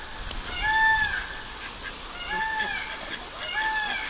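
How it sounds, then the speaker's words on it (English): A peacock calls from up in a tree, three loud, nasal, two-toned honking cries spaced evenly over a few seconds against quiet outdoor background. "Oh, there's a peacock on the tree."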